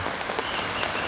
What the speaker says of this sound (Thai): พี่น้องฝนตก